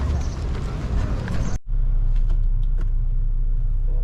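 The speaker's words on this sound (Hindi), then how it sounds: "गाड़ी स्टार्ट कर ली है, एसी वगैरह ऑन कर लिया है।" A car engine idles with a steady, close low rumble after being started in Madina, with the air conditioning switched on; the sound breaks briefly, then resumes and holds evenly.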